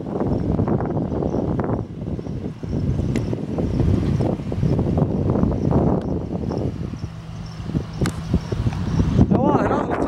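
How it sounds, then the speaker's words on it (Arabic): Floodwater of the Tensift river near Marrakech rushes in a steady, broad roar, mixed with heavy wind buffeting the microphone and someone speaking over it. "هذا هو واد تنسيفت. هذا الواد كيجي من إوريكا، جاب الفيضان."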